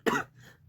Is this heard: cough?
yes